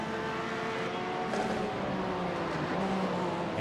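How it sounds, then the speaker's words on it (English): Race car engine revving in iRacing at Sebring during a three-hour event, a loud, continuous engine roar with rising and falling pitch sweeps, close and alone without talk. "You hear him revving the engine."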